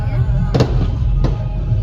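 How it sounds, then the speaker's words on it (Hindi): Firecrackers go off outside during a wedding, two sharp bursts cutting through a loud, steady low rumble of background noise. "बाहर बहुत तेज जोर जोर से पटाखे बज रहे हैं, शादी है।"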